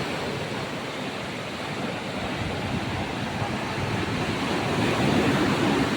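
Strong early-morning ocean surf rushes in a continuous roar with wind noise on the microphone, swelling slightly louder near the end, with no one speaking.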